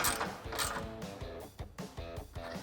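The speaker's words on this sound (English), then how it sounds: "my 13mm socket on my 3/8 ratchet and tighten the bottom one up." A 3/8-inch ratchet turning a 13mm socket tightens a bolt on a rocker guard bracket of a 2021-2023 Ford Bronco, giving a few sharp clicking bursts under a steady tonal background.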